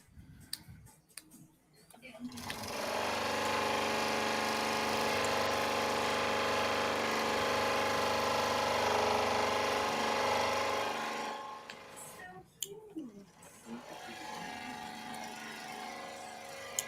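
A blower runs in a woodshop, blowing cellulose, wood shavings and sawdust out in one loud, steady roar lasting about nine seconds, with clattering and handling noises before it starts and after it stops.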